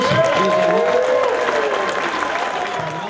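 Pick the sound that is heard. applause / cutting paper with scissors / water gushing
applause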